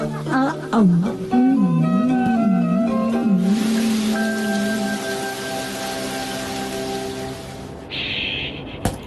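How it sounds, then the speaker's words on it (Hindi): Rain falls in a Shin-chan cartoon as a steady hiss. Cartoon music with a wavering tone plays over it at first, then the rain continues alone until a brief brighter sound near the end. "अरे वाह, बारिश भी रुक गई।"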